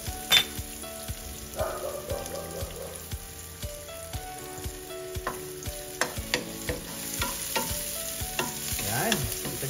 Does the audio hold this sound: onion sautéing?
yes